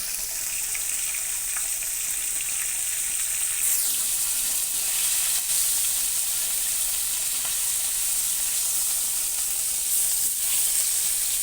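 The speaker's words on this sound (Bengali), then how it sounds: "মাছ ভাজি হচ্ছে" Fish sizzles steadily in hot oil in a pan, a continuous close frying hiss with occasional crackles and faint stirring, no talking.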